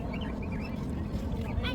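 Caged birds for sale at an outdoor swap meet chirp and call in quick, scattered bursts over a constant low rumble of crowd and market noise.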